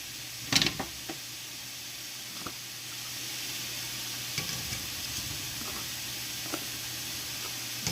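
Vegan butter sizzles in a frying pan for Japanese fried rice, giving a steady soft hiss with scattered pops and faint utensil taps, without any talking.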